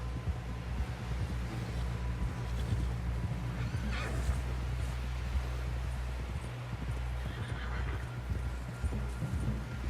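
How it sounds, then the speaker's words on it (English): Rhythmic clip-clop of horse hooves over a low, steady rumble, with a brief whinny-like swell near the middle, in the video game Red Dead Redemption 2. "Someone help John down off this horse"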